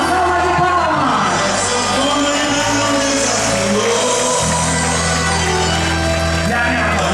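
A large festival crowd at a festa junina show in Belém cheers, shouts and applauds to welcome the singer, a loud continuous roar with steady low musical tones underneath.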